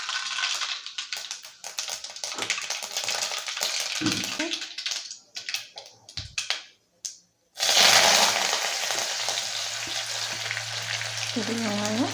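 Mustard seeds spluttering in hot oil for a Tamil-style chicken liver fry, a dense crackling sizzle that runs steadily, drops out briefly near the middle, then resumes loud and close.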